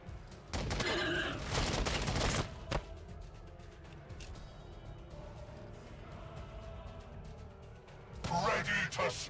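Volley of gunfire in the video game Warhammer 40K Battlesector, loud bursts of shots at the start and again at the end, with lower battle noise between and voices talking over it.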